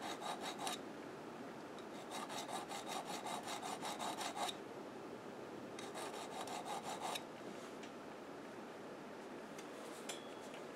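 A small burr is honed off the back of a hollow chisel mortiser bit in quiet, close, rhythmic rasping strokes. The strokes come in two separate bursts with soft pauses between them.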